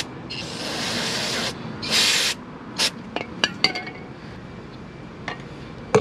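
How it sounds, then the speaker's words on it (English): Brake cleaner sprays from an aerosol can onto a grimy VW ABS wheel speed sensor in a hissing burst of about a second, followed by a shorter second spray. Then come a few light metallic clinks and taps nearby. "Get some brake cleaner too."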